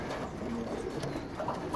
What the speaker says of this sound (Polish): rasa gołąb pocztowy gołąb, który dobrze nawiguje